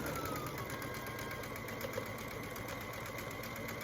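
A sewing machine stitches quilt rows together, a steady, close mechanical whir and rapid needle chatter running continuously without pause.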